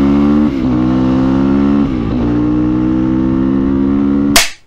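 A 2012 KTM 250 EXC two-stroke dirt bike idles loud and close with a steady, buzzing drone and slight dips in revs, then ends in a brief sharp burst.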